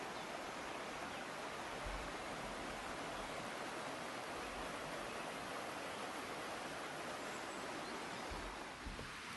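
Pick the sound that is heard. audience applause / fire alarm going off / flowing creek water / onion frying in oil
flowing creek water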